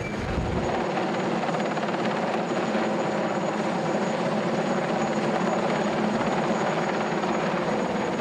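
Military helicopter flying on operations in Mali, a loud steady rotor and turbine roar that fills the whole stretch without break, close and constant, with no voices over it.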